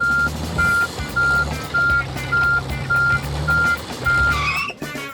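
A toy car parks at a cardboard toy-shop parking spot while a reversing alarm sounds about nine evenly spaced beeps over a low motor rumble, ending with a brief rising squeal.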